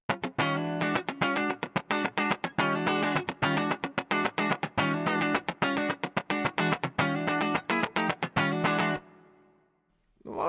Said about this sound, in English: So let's just hear one of these compressor settings.